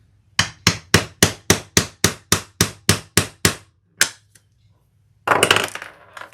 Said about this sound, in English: Let me grab my rivet press and my hammer.